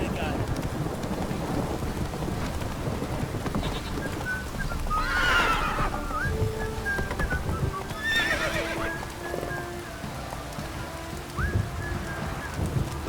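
Roach the horse in The Witcher 3 whinnies twice in loud, ringing calls while hooves clop steadily underneath, all set against a rumbling backdrop of rain and thunder.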